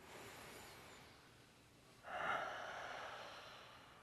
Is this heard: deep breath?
yes